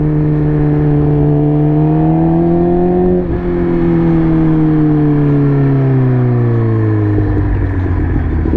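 A motorcycle engine holds a high rev during a wheelie on a neighborhood ride, then its pitch sags and falls as it winds down. The sound is loud and continuous, with no speech.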